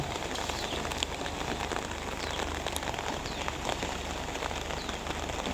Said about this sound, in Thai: มาแบบ ท่ามกลางสายฝนเลยว้าวมาตอนฝนตกเลย